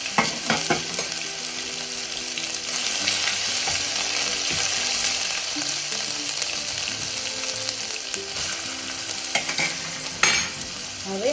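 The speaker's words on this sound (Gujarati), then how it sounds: "હવે વઘાર કરી લઈશ" Mustard seeds, cumin, bay leaf and chili fry in hot oil as tempering for a vegetable dish, with a continuous loud sizzle and crackle broken by scraping stirring strokes.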